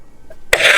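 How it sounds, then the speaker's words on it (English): A short, sharp cough bursts out loudly after a near-silent moment, a single harsh burst with a noisy tail, heard alone with no talk. "Sorry, coughing fit."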